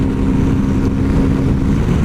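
An Orcal 125 Tabor motorcycle, loaded with heavy luggage, is pushed hard to gain speed on a country road, its engine a loud steady buzzing drone under rushing wind.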